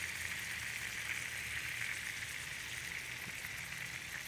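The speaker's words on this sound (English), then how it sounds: "as you can hear, you don't hear the sear anymore, you hear a bubbling." Lamb chops bubble steadily in lemon butter in a pan, a soft continuous sizzling fizz with no voices over it.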